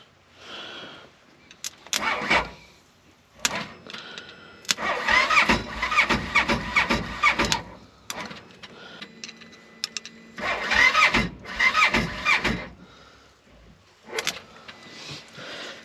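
A Polaris General 1000 UTV being cranked in several bursts: the starter grinds and the engine catches briefly in rough, stuttering attempts, separated by pauses, loud and close.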